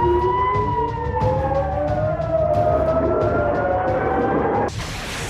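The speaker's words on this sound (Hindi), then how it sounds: "हवाई हमलों के सायरन बजने लगे थे" Loud wailing air raid sirens in northern Israeli settlements such as Kiryat Shmona rise and fall in overlapping tones, sweeping continuously, then cut off into a burst of noisy static at the end.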